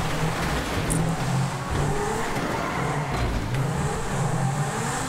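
A Lamborghini Aventador in GTA V driving with its engine roaring and revving, a steady dense car noise lasting several seconds with brief tire and impact sounds and no talking.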